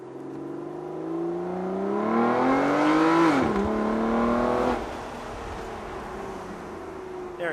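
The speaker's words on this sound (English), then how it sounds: "let me just roll through the gears real quick. Well, paddle through the gears" A 2006 Aston Martin DB9 accelerates with a loud engine that climbs in pitch, drops sharply at a paddle upshift and then pulls again before easing off. The engine is heard close and alone, with no talk.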